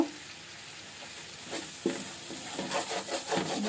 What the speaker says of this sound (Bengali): এখন আমি এটাকে নেড়ে নিব